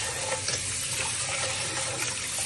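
Soaked rice and dal are washed under running water, with a steady, close splashing and gushing from a tap into a vessel that continues throughout without any talk.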